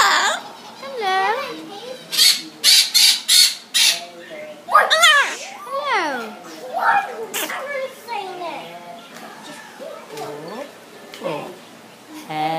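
A parrot squawks repeatedly in loud, close, harsh bursts, some clustered in quick runs, interleaved with high chirpy vocalizations and a person talking softly to the bird.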